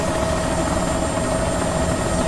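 A helicopter taxis for takeoff near Juneau, Alaska, its engine and rotor giving a steady, loud, close whine and low drone with no break.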